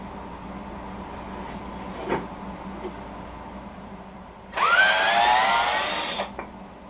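A wood lathe spins an oversized bowl blank at about 600 RPM, a low steady hum broken by a few soft knocks and then a louder, harsh whirring burst lasting under two seconds.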